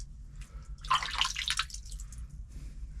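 Water drips from a mountain spring on Kondarangi hill. A short burst of splashing drips comes in the middle over a low, quiet background hum, with no talking.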